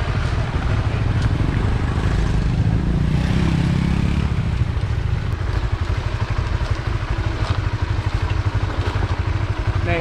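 A motorcycle engine drones loudly and steadily while riding on a long-distance trip through northern Thailand, a continuous rumble with wind buffeting and no clear gear changes.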